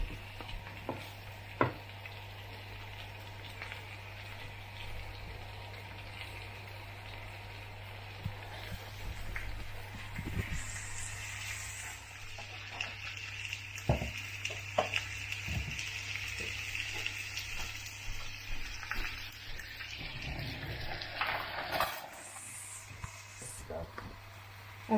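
Liver frying in a pan, a steady low sizzle running under the whole stretch with occasional stirring and utensil clicks, fairly quiet and close.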